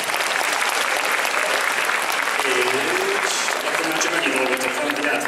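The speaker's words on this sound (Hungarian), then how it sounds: "Nagy tapsot a zsűrinek." Sustained audience applause at a spring MondoCon 2017 cosplay contest, steady and dense throughout, greeting the jury, with a few faint voices and cheers mixed into the clapping.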